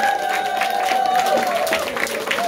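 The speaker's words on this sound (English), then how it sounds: "can we give our scholars one more round of applause for a job well done?" Audience applause for student debaters after a 6th vs. 7th grade school debate: dense, continuous clapping from a crowd throughout, with a steady sustained tone running underneath.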